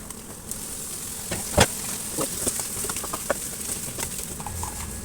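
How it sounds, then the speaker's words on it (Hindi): Chicken pieces fry in softened, translucent onions in a karahi, a loud close sizzle that runs steadily throughout, with one sharp clatter early on and a few lighter knocks. "अब मैं इसमें चिकन डालूँगी।"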